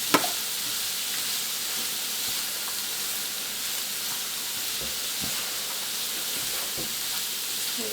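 Cabbage thoran with turmeric and coconut being stirred in a pan, a steady soft sizzle and hiss with a few light scraping knocks of the spoon, continuous and close.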